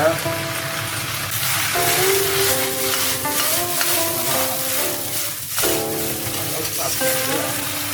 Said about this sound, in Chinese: 再去翻炒，加入打好的猪油渣